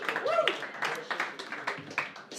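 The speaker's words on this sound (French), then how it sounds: "J'aimerais qu'on applaudisse en grand nombre" Studio audience on a Québec comedy podcast claps to welcome a guest, a sparse uneven patter of hands close by, with a voice cutting in briefly at the start.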